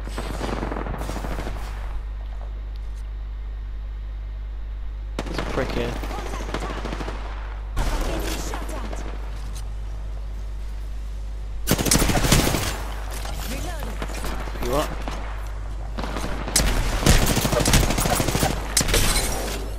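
Automatic weapon fire in the video game Apex Legends, repeated loud bursts of rapid shots in several clusters, with a player's voice and game sounds between them.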